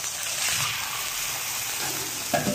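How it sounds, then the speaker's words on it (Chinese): Water goes into a wok of frying cured pork ribs, giving a loud, dense hiss that holds steady, then a brief clatter near the end. No voices are present. "好，加水"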